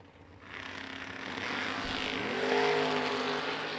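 An Oldsmobile drag racing car at the strip launching with a rising engine roar that swells from quiet to loud over a few seconds and holds as a strong, close, continuous drone.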